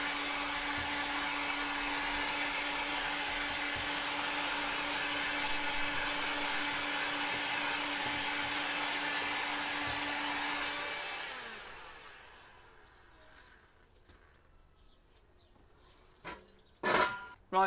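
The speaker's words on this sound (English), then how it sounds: "So all you want to do with this heat gun is just hold it about a foot above it and just spray and just blast it in places." A handheld heat gun blasts hot air over freshly spray-painted pieces, a steady loud roaring whoosh that runs for about eleven seconds and then cuts off, leaving a quiet room with a few faint clicks and knocks.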